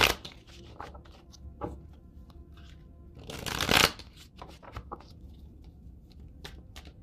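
Holographic Light Seers tarot cards are shuffled close up, with soft handling taps and one loud riffling burst in the middle, and no speech.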